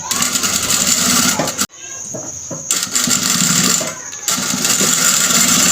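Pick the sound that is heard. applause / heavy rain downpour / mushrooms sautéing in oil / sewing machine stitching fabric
sewing machine stitching fabric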